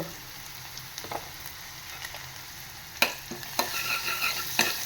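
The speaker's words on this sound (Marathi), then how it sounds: "छान असं परतवून घ्यायचं" Onion and asafoetida sautéing in a pan, a low steady sizzle with a few soft stirring scrapes, growing busier and louder toward the end, with no talk.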